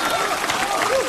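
A stage comedy audience breaks into a brief burst of dense clapping, heard under someone speaking.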